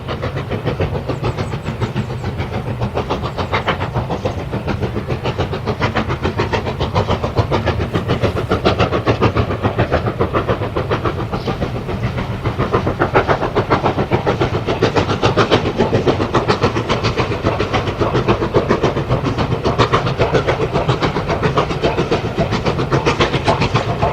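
A Stanier steam locomotive hauls a train over the Settle-Carlisle line, a loud continuous rumble of engine and wheels on the rails that holds steady throughout and swells slightly partway through.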